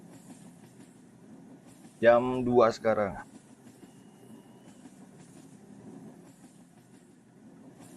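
A Roblox train rumbles steadily along the rails in a low, continuous hum, with someone speaking briefly over it partway through.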